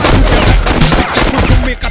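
Dense gunfire erupts in an action movie shootout with four killers, a loud, continuous barrage of overlapping shots with little space between them.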